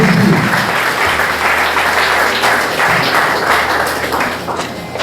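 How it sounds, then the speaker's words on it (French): A church congregation at a deliverance seminar in Haiti claps in a dense, sustained round of applause, loud and close, with a few voices faintly mixed in. "Applaudissons le Seigneur."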